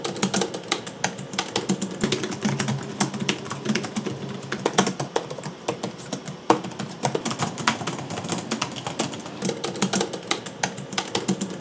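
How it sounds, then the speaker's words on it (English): Laptop keys being typed on, first a Razer Blade 16 gaming laptop and then Asus gaming laptop keyboards: a steady, fast patter of close, crisp clicks and taps running throughout with no talking. "here's a sound sample compared with some Asus keyboards"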